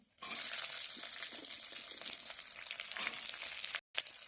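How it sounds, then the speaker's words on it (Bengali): Chopped onions are dropped into a hot pan alongside minced ginger and start frying, giving a loud, steady, close sizzle that fills the whole stretch after a quiet start, with a brief gap near the end. "এবার আমি এখানে যে পেঁয়াজগুলো কেটে রেখেছি পেঁয়াজগুলো দিয়ে দেবো।"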